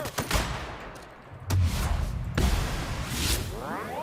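Video game gunfire in The Outer Worlds during a firefight, with several sharp shot bursts and whooshing impacts spread across the stretch over steady combat background noise.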